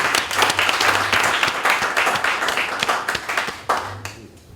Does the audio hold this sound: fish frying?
no